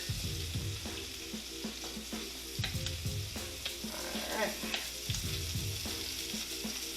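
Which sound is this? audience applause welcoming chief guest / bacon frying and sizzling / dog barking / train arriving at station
bacon frying and sizzling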